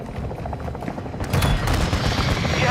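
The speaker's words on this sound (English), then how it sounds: "Friendly chopper gunner servicing target." A chopper gunner helicopter opens fire in a Call of Duty MWII team deathmatch, a sudden loud burst of rapid automatic gunfire and booms rising over the rotor drone partway through.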